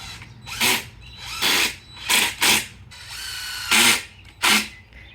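Power drill boring starter holes in the wooden frame of a quail and rabbit cage, six loud whirring bursts about half a second each, spaced by short pauses, close up and with no speech.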